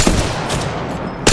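Gunfire in the shooter game Apex Legends during a heated team firefight: dense, loud bursts of shots near the start, middle and end, with a rough, noisy bed of battle sound in between and no talking.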